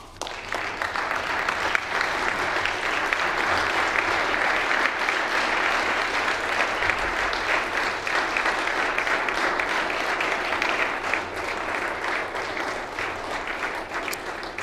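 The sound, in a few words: round of applause in the legislative chamber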